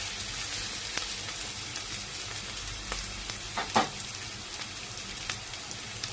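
Ingredients sauté in a hot pan for salmon head sinigang, a steady crackling sizzle with scattered pops and one sharper clatter midway, close and fairly quiet, with no talk over it.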